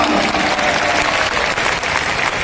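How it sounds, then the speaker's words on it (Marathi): A crowd at a public rally in Mumbai claps in a dense, continuous burst of applause, loud and even from start to finish. "जोरदार टाळ्यांचा कडकडाट करूया"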